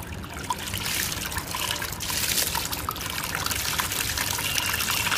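Water splashes and trickles steadily from the outlet of a small 12V DC brushless micro pump, model DC40-1250, a continuous bright watery hiss that grows slightly stronger, close and without voices.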